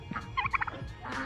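A turkey gobbles nearby at a resort in Nainital, Uttarakhand, giving a quick burst of rapid, rattling gobble notes and then a fainter call.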